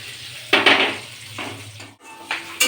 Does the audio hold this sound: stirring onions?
yes